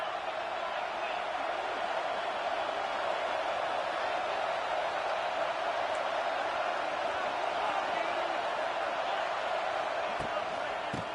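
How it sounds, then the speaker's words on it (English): Stadium crowd roaring steadily at a South Carolina versus Tulane college football game as the second half opens, a dense, loud continuous wash of voices with scattered shouts and cheers throughout. "This crowd still bringing the intensity to open the second half."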